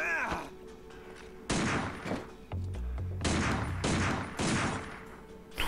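Gunfire in the video game Binary Domain striking a PC display, with several loud bursts of shots and impacts separated by short gaps, plus a low thudding stretch in between.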